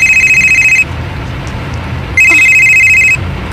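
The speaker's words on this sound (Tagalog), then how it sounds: "Ang akong cellphone." A cellphone rings loudly with an electronic trilling tone in two bursts separated by a pause, close and clear over low background noise.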